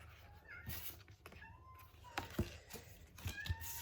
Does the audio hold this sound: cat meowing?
yes